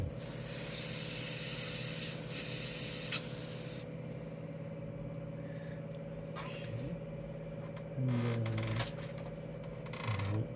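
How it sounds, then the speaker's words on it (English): Short bursts of hissing spray as an airbrush sprays out water, loud for a few seconds then stopping, with a faint mechanical hum and small clicks in between. "I like to tighten it back down and just spray it out."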